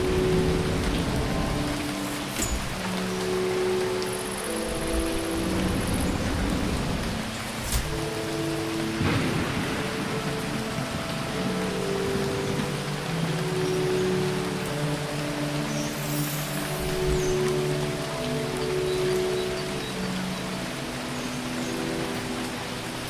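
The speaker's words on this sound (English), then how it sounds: "The rain is coming from very small clouds, as if the planet is sucking the water out of them." Steady rain falls in the video game Phoning Home, dropping from very small clouds on an alien planet. The hiss is dense and unbroken, with soft, sustained musical tones underneath.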